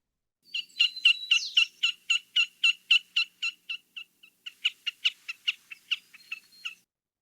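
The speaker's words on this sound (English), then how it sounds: "They also do make a sound, like a vocal sound, and it's this sort of kek, kek, kek sound." A snipe gives a rapid series of sharp, repeated kek notes from the ground, about twenty evenly spaced calls, loud and clear with a brief pause midway.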